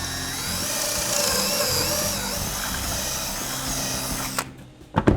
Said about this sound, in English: and drill the pocket hole.